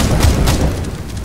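Explosion in Counter-Strike: Global Offensive, a loud low boom with a couple of sharp hits rolling through the first half second and then a fading rumble, no voices over it.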